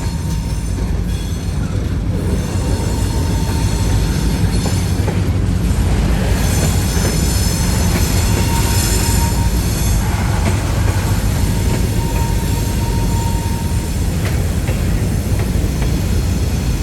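A freight train led by an SD40-3 locomotive rolls past close by, a loud continuous rumble of wheels and cars with faint squealing over the tracks, no voices.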